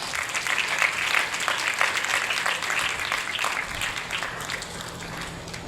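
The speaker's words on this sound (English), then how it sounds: "Let's welcome them with a big round of applause." Audience at a birthday anniversary function for the Hyderabad Nizam, held at a school, applauds to welcome guests: dense, steady clapping across the room that eases slightly toward the end, with a faint low hum beneath.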